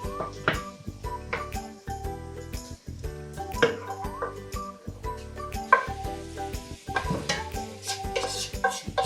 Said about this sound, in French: je vais les renverser dans la grande casserole